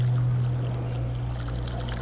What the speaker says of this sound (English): So if we give this plant a whole bunch of water,